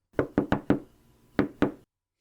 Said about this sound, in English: He knocks at the door.